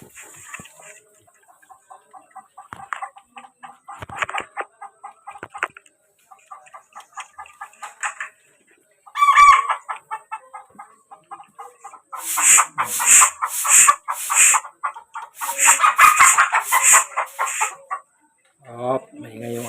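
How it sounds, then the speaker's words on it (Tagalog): Chickens cluck on and off, then a rooster crows loudly several times in quick succession, close by on a farm with pigs, with faint voices at times. "maingay yung manok nila"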